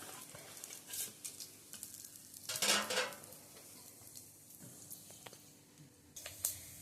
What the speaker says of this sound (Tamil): அதை அதில் போடுங்க, நல்லா பொரியட்டும்